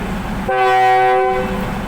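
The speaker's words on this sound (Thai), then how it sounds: "ตอนนี้ขบวนรถพิเศษชานเมืองขบวนที่ 1129จากสถานีธนบุรีปลายทางนครปฐมกำลังจะออกจากสถานีธนบุรี แล้วนะครับ" A suburban special train, number 1129, sounds a single long, loud horn blast of about a second while departing Thonburi station, heard over steady station noise with no talk.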